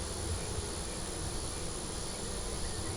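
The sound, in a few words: honey bees buzzing at an open beehive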